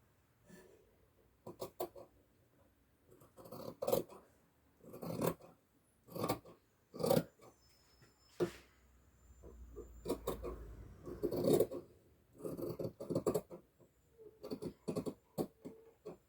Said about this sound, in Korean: 중심에 너트 표시, 어깨에 재단.